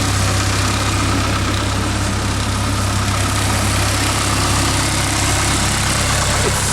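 A tiny car engine smaller than a street bike engine idles after a choke start at an auction yard, a loud, steady low rumble with constant vibration, close by and unbroken.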